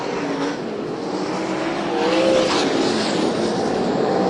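Sprint cars in a USAC National/CRA race at the Oval Nationals on the Perris, California oval roar past together, a loud, continuous engine drone that swells midway as the pack draws nearer, with no talk.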